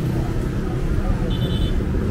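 A big bus rumbling past on a street in Puerto Plata, a close, loud, steady low engine roar amid traffic noise, with a brief high whine partway through.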